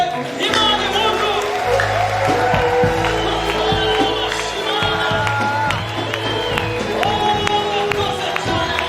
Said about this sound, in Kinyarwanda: Reka natwe tuvugirize Imana impundu.